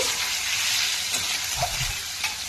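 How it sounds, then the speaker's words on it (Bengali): Pieces of paneer crackle and sizzle steadily in hot oil, a constant bright frying hiss with a few soft knocks from the pan. "এই যে পনির ভাজছি"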